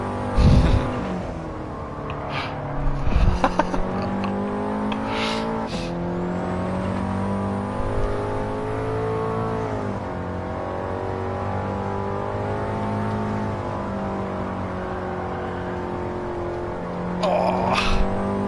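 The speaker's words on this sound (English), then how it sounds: "the old M3 sounds pretty nice with the racing exhaust on" A BMW M3 fitted with a racing exhaust, driven in Gran Turismo 7, gives a loud, steady engine drone with sharp rev spikes near the start and end, heard alone without talk.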